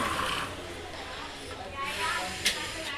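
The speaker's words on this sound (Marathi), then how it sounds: "किती आवाज येतो त्या फॅनचा." An electric fan whirs in a home kitchen while a cashew curry is cooked for Holi. The whoosh is a steady, fairly faint, broadband hum that runs the whole time, with one small tap near the end.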